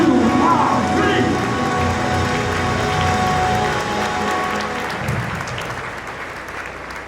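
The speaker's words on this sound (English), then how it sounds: "Come on, somebody clap your hands." A congregation at an MLK Jr. prayer service claps and cheers, a loud crowd roar that starts full and slowly thins over several seconds, with voices mixed into the noise.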